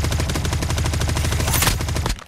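Rapid bursts of automatic gunfire in a shooting video game, a dense, loud, continuous rattle of repeated shots that cuts off abruptly near the end.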